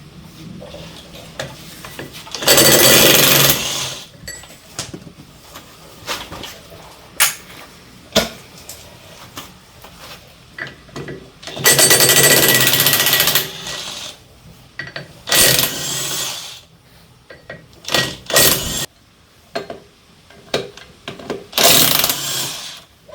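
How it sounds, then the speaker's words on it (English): A power tool with a 9/16 socket spins out the sprocket hub bolts on a Vermeer mini skid steer. Loud, close whirring bursts of varying length are separated by quieter gaps filled with clicks and handling noise. "I'm going to zing all these bolts out, and the sprocket should come off that hub"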